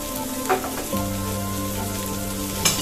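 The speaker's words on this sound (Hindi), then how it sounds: "प्याज पक रहा मेरा, प्याज थोड़ा पक जाए हल्का ब्राउन" Onions frying in a pan for a palak, soya chunk and pea curry, a steady close sizzle with a couple of brief stirring scrapes.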